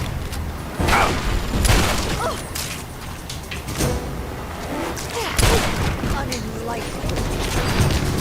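Gunshots crack repeatedly in Fallout 3, sharp bursts spaced unevenly across the stretch amid a busy, noisy game soundscape, with a voice talking over parts of it.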